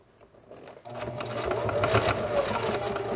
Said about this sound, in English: stick it under the foot of the sewing machine, and that clamps it down